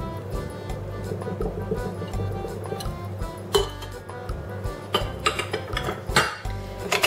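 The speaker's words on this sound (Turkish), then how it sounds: "Bir parça daha çırpacağım" Eggs, sugar, milk and oil being whisked for a cherry cocoa cake batter in a bowl, steady close-up clinking and scraping of the whisk against the bowl with sharper clinks near the end.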